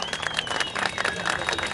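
A crowd at a political rally claps hard, a dense, continuous patter of many hands at moderate distance over a short stretch.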